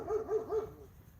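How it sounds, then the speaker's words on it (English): Neighbors' dogs bark outdoors at a distance, three or four faint, rhythmic barks in quick succession, heard alone against a quiet background. "That's neighbor dogs for you."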